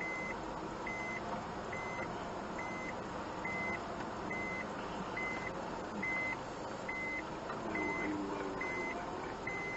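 A kei box car backs up while its reversing alarm beeps steadily, about a dozen evenly spaced tones over a quiet low hum of the idling vehicle; nobody speaks.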